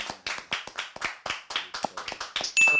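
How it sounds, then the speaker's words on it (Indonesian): A small audience at a student discussion event claps in separate, crisp, fairly regular hand claps, about a dozen over three seconds, close and distinct. A brief high tone cuts in near the end. "Tepuk tangan semua."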